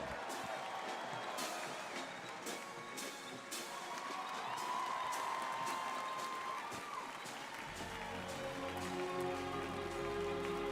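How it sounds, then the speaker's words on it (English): Audience applauding the 82nd Airborne Ceremonial Band from Fort Bragg at a military parade, a broad steady wash of clapping and crowd noise lasting throughout, with a low rumble rising near the end. "Give them a big round of applause, the 82nd Airborne Ceremonial Band."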